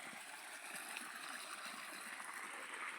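Irrigation water runs through a pipe into a maize field, a faint, steady rushing and gurgling flow with no talking.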